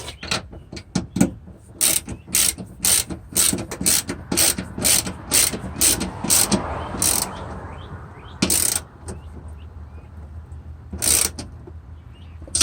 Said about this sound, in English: Probably help if I use the right side of the wrench.